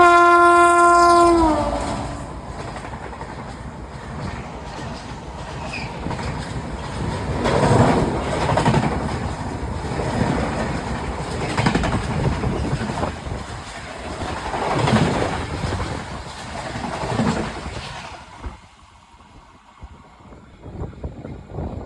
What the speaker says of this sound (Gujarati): ટ્રેનને પણ સિગ્નલ મળી ગયું છે. હોર્ન તો આવી ગયું છે.